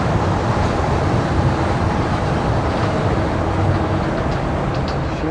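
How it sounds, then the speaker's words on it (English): Trains rumble and roar steadily in Tokyo, where Shinkansen, monorail and local lines run together. The noise is loud, dense and continuous, with no talking. "Kind of noisy here with all the trains."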